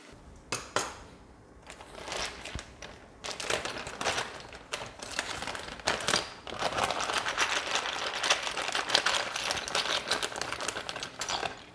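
Commodore 64 keycaps clatter and rattle inside a plastic bag with cleaner as they are shaken and rubbed, giving dense bursts of clicking plastic and crinkling bag, loud and close with brief pauses.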